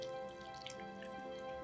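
Warm soapy water is poured into a small container for wet felting, giving soft trickling and light dripping sounds that are quiet and close, with no talk.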